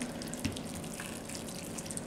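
Hot water is poured over chopped vegetables and rice in a baking dish, giving a soft, continuous splashing and trickling pour with a few small drips.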